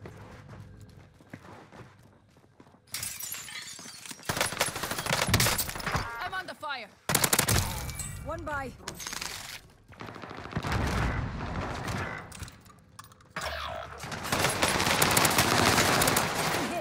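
Call of Duty Rebirth Island gunfire crackles in rapid bursts and volleys with an SMG, loud and busy across the scene, mixed with footsteps and other game sounds.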